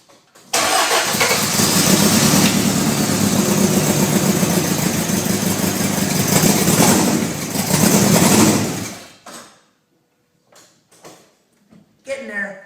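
A Honda CRX with a swapped B16 engine cranks and fires for its first start, running loud and rough for about eight seconds before cutting off, leaving a few faint clicks and knocks.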